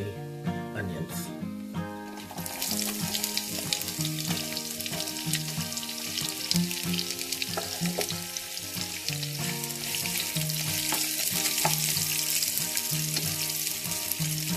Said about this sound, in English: You need to let this fry for a few minutes until your onions are golden brown.